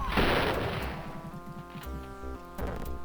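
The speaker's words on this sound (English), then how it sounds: "You gotta admit too, the shots they fire are loud and scary" Enemy gunfire in the Wolfenstein video game: a burst of sharp shots followed by scattered single reports, fairly faint and echoing over a low background hum.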